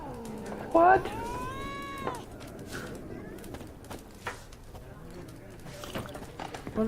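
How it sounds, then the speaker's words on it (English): A cat meows in The Witcher 3: Wild Hunt, one short rising cry early on, set among scattered footsteps, hoof-like clops and ambient game sounds at low level. "What's wrong with you, kitty?"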